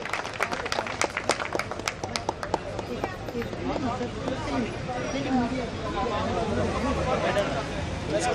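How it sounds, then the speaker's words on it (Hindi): An audience claps at a stage event, a burst of scattered, loud applause that fades into crowd chatter and someone speaking over the room. "जोरदार तालियां"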